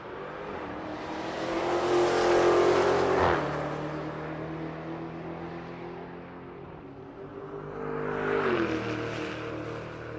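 A Dodge Challenger Hellcat drag races at Rocky Mountain Race Week: the engine roars and climbs in pitch, cuts off sharply, then builds up again at moderate distance, with no voices.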